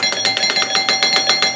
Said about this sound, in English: I'm just going to ring his doorbell